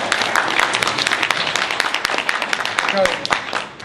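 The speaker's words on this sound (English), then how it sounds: "No, everybody together. Clap it up for yourself." A conference crowd claps together, a dense wash of hand claps with scattered voices mixed in, holding steady for several seconds.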